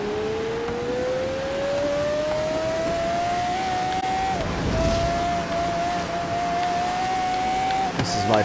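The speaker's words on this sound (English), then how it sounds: "Is that the high-pitched revving of your vehicle" A Pagani Zonda R revs in Forza, a high engine whine that climbs steadily through one gear, breaks for a shift and climbs again, loud and continuous.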